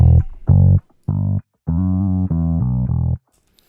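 A synthesized fingered electric bass plays short, punchy notes in an 80s style in a choppy rhythm with brief gaps, loud and alone, with a gritty edge.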